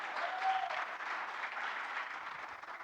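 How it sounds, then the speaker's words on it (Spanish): Congregation applauding during a church service, a steady dense wash of many hands clapping throughout, moderately loud and even, with no talk over it. "Si lo va a aplaudir, apláudale lo mejor,"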